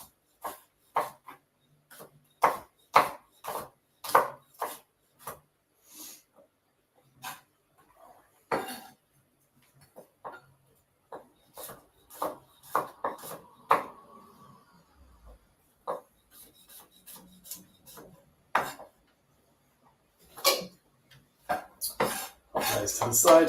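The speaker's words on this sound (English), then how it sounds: "I'm gonna slice that and then slice it again lengthways, and then just pop it the other way." A kitchen knife chops vegetables on a board, first cutting lengthways and then diagonally, in a series of sharp, fairly close taps with uneven rhythm and brief pauses between runs of cuts.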